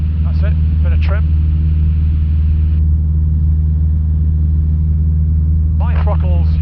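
Cessna 152 light aircraft engine droning inside the cockpit in flight during a training lesson near Netherthorpe Airfield, a loud, steady, unchanging roar that fills the whole stretch while voices talk over the intercom.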